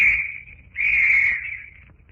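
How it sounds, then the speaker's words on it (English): A whistle blown in a 1946 old-time radio drama set on a wharf sounds as a piercing steady tone in two blasts, a short one then a longer one, fairly loud with no talk over it. "The whistle will summon others."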